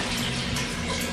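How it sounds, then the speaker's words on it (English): Liquid for winemaking poured from a primary fermenter bucket back into a 4-liter Tupperware container, a loud, close, steady splashing stream running against the container's side without pause. "as it pours back into my container, it touches the side of the primary fermenter"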